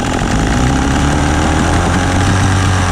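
Carolina Skiff outboard boat motor, a two-stroke, running close and loud at an idle set too high, with a steady low rumbling drone and a slight pitch shift late on.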